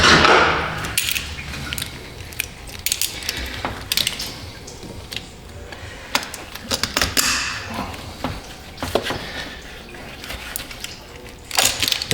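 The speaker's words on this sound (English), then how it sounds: "Let's pop that hose off." A radiator hose on a Buick LeSabre is worked off by hand, giving irregular creaks, squishy rubbery scrapes and small clicks at close range, with brief louder tugs scattered through.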